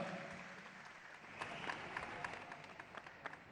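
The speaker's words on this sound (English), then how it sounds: "a round of applause for both fighters in this title matchup" Crowd applause at a WBC Youth world title boxing match, a broad steady wash of clapping from a large arena audience with a few sharper claps standing out, continuing without a break throughout.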